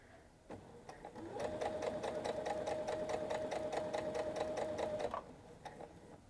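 Sewing machine stitching fabric piping along a fold, running in a steady, rapid rhythmic clatter for about four seconds before stopping, with quiet handling before and after.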